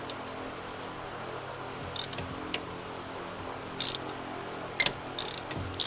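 A ratchet on a long extension loosening a bolt during a Honda Recon 250es starter replacement, with a few short clicking ratchet bursts spaced over a low background hum, close and fairly quiet.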